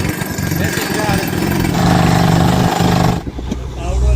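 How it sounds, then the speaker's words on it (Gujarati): A borewell drilling rig on a farm runs with a loud, rough engine rumble close by, while people talk over the machinery. "બોર થયો ચાલુ"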